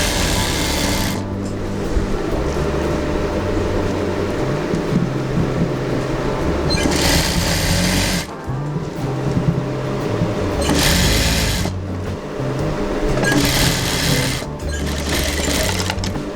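A sewing machine stitching a chudidhar runs in long loud continuous bursts of rapid mechanical whirring and needle clatter, stopping briefly between seams, close and alone without talk.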